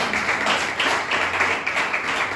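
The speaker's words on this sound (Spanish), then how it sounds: "Déle ese fuerte aplauso al Señor esta mañana." Steady applause from a crowd, a dense continuous clatter of clapping that holds for the whole stretch.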